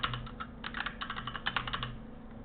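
A new password typed on a computer keyboard: a quick, uneven run of light, close key clicks with short pauses between bursts, quiet and alone.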